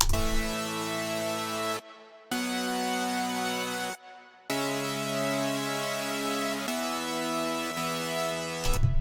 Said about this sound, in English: It's just, a big saw wave with a lot of white noise in it.